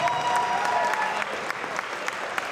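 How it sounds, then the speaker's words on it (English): Applause for both fighters at a junior cage fight event, a steady wash of clapping from a crowd that lasts throughout, moderately loud with no talk over it. "let's give them a round of applause for both fighters"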